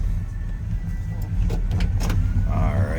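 A 1972 Oldsmobile Cutlass S sits idling with a steady, low engine rumble that holds evenly throughout, with a few faint higher clicks and a brief whine near the end.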